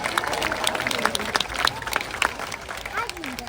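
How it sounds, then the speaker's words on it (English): An outdoor audience at a UK safari park claps and cheers in scattered, uneven bursts, with voices mixed through the applause. "Everyone give him one last cheer to say well done."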